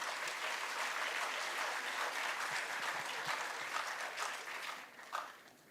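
Large crowd at a university orientation event applauding a speaker, a loud sustained wash of clapping that thins and fades toward the end with a last few scattered claps.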